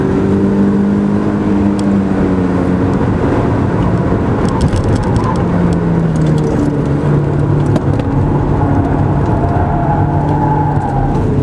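A race car engine drones loudly and steadily at full throttle, its pitch rising and falling as it revs and accelerates hard, close by and continuous.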